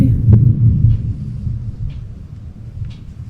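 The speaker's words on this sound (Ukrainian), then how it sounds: "Хоча я дуже боюся грози, але знімати таке явище крізь вікно набагато безпечніше, ніж гуляти на дворі в таку погоду." Low thunder rumbles during a thunderstorm, heard from indoors through a window as a deep, rolling drone that swells early and then fades into a softer murmur.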